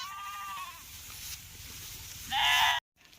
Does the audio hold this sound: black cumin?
no